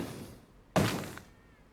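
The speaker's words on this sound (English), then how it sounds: "here are some of the bullet impacts" A single bullet impact from Braid lands as a sharp, heavy thunk with a brief shattering crunch and short decaying tail, close and isolated against a quiet background.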